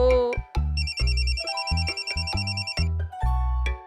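In a kids' cartoon, a phone rings with a warbling electronic tone that repeats several times over a bouncy music bed with loud rhythmic beats.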